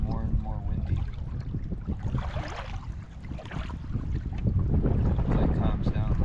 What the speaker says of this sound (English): just keeps getting more and more windy